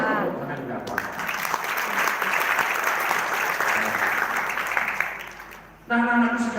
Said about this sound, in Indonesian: Boleh tepuk tangan enggak Pak?